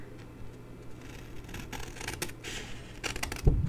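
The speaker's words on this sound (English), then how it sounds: "I just snip either side just to take away the score line" Scissors snip card on either side of a score line while making a mini 4 x 3 inch folding album, giving quiet, scattered crisp cuts with a sharper snip near the end.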